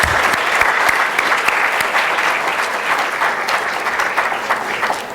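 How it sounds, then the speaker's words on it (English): An audience at a high school symposium applauding the students, with sustained clapping that is strong at first and tapers slightly over several seconds. "how about an extra round of applause for the students?"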